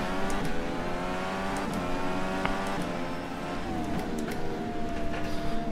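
A DW12 open-wheel race car engine from the rFactor 2 racing sim at Atlanta Motorsports Park drones steadily, its pitch sliding up and down through gear changes and throttle lifts, with brief higher-pitched squeaks on top and no talking.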